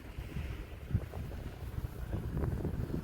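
Strong wind buffets the microphone of a VCOPTR Falcon drone hovering low in gusty conditions, a loud rumbling roar that rises and falls continuously.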